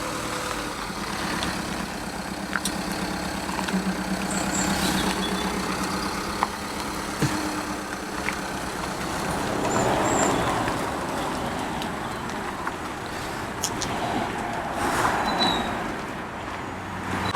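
A camper van driving along narrow country roads gives a steady low engine drone with road rumble from inside the cabin, a constant moderate hum with occasional small knocks and rattles, and no talking.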